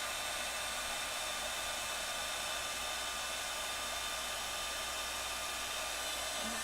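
Heat tool blowing hot air to set embossing powder on a handmade patriotic card, a steady close whooshing fan drone with a high motor whine, continuous and alone without talking.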